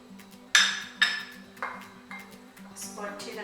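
Spices and baking powder with white cumin for chicken broast coating being mixed in a metal bowl, giving a series of sharp clinks and scrapes of a spoon against the bowl, close up, with a low steady hum underneath.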